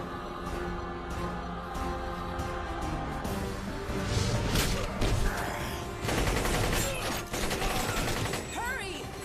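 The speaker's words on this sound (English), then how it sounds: "It's gonna explode!" Cartoon explosion erupting amid a dense barrage of bangs and booms layered over busy animated music, with loud bursts around the middle and later, and voices heard at moments.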